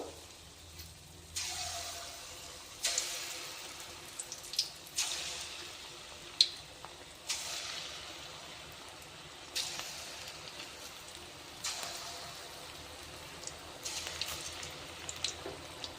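Rice and gram flour pakoda deep-frying in hot oil, a faint, steady crackle and bubble close by, with soft splashes recurring every couple of seconds as batter goes in.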